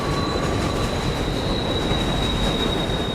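Subway train rumbling steadily at close range, a dense low roar with rail noise and a sustained high whine from the wheels, loud and continuous with no talk.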